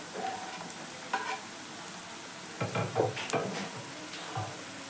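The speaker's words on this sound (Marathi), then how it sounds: "आता मी घालते लसूण, बारीक चिरलेली मिरची आणि कढीपत्ता" Garlic, finely chopped chillies and curry leaves sizzle steadily in a pan, with a few scraping stirs and light clinks of a utensil breaking through the constant frying hiss.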